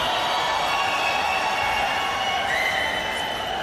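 A large crowd at the OnePlus 7 launch event in Bengaluru keeps up a steady, dense roar of cheering and shouting, loud and continuous throughout with no clear breaks.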